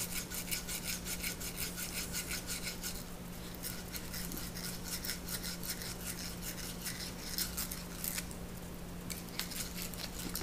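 Brisk back-and-forth scrubbing on the end of copper refrigeration tubing from a wine cooler, a rough rasping scratch repeated in quick strokes, close and loud with brief pauses.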